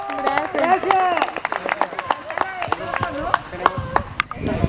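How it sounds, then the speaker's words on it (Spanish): A small birthday gathering for Claudia with a mariachi group breaks into lively clapping and cheering, handclaps rattling close by under shouted voices and chatter. "Un aplauso bien bonito para Claudia, que se escuche."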